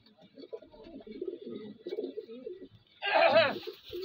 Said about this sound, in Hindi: एक टेडी कबूतर है